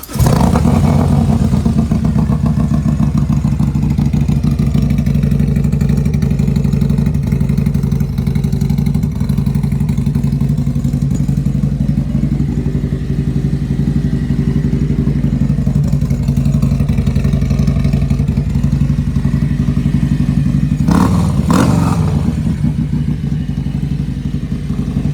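A motorcycle engine running cold on a very cold day idles loudly and steadily up close, with a rough, uneven rumble and a brief blip of revs near the end, with no talk.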